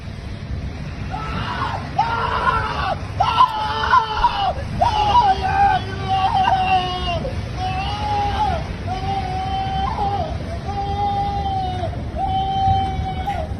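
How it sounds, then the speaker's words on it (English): A man screams and wails repeatedly in drawn-out, strained cries over a noisy background with other voices and commotion. "Just listen to the guy scream."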